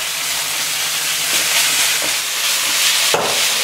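Minced beef patty searing in a hot pan over full heat gives a steady, loud, close sizzling hiss throughout, with a few faint clinks of utensils.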